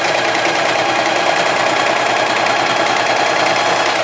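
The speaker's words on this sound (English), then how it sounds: "And we're just gonna get to sewing." A sewing machine runs steadily, stitching the fabric corners of a gift bag with a loud, even, continuous mechanical whir and no breaks.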